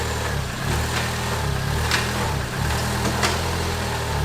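A car engine idles steadily and loud, with a brief dip and a couple of faint clunks as it is shifted into first gear, no talk heard.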